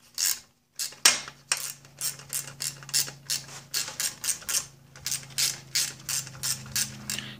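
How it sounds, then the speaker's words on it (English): A speed wrench ratchets bolts out of the lower unit of an Evinrude XP 175 HP outboard motor, a steady series of close, sharp metallic clicking bursts with short pauses between strokes. "Now I'm going to use my little speed wrench there to give them the rest of the way."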